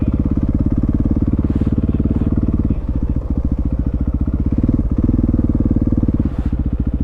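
A motorcycle engine thrums loud and close with a steady low pulsing beat as the rider pulls out onto a road, the tone wavering slightly with throttle.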